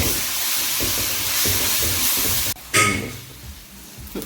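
Ingredients for a chicken curry sauté in a hot pan with a broad, steady sizzle and hiss. The sound cuts out briefly partway through, then returns as a sharper burst that slowly settles back.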